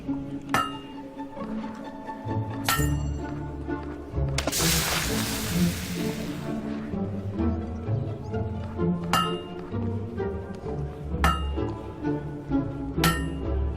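A hammer strikes metal at a blacksmith's forge in Fable 2, giving about six sharp, ringing clinks spaced a couple of seconds apart over steady background music, with a brief hissing burst midway.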